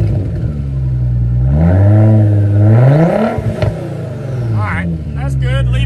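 Audi A4 2.7 with a straight-pipe exhaust revs up and settles back on a cold start, a loud close engine sweep with a voice briefly heard near the end.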